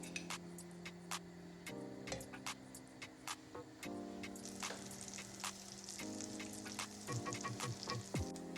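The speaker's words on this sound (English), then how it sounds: "Add a teaspoon of olive oil or vegetable oil and some butter." Olive or vegetable oil and butter heat in a frying pan for a tadka, giving a quiet, steady sizzle with scattered ticking pops and a few brief clinks, heard alone.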